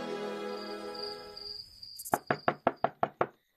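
Seven firm, evenly spaced knocks on a door ring out after a sustained tone fades, close and distinct with no voices.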